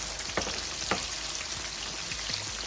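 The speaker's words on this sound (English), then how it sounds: "Let this fry on this side, and I can put the other one in there." Catfish pan-fries in hot oil for a Southern fried dish, producing a constant dense crackling sizzle with faint pops throughout, steady and close.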